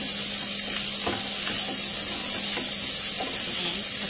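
Ingredients for red fried rice sizzling in a pan, a steady close hiss of hot oil with a few soft scrapes and taps of a utensil stirring, with no talking.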